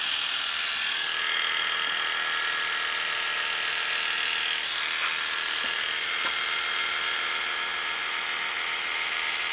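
Electric hair clippers buzz continuously while cutting hair for a pompadour cut, a steady close whine with slight shifts in pitch as the tool pivots up the head.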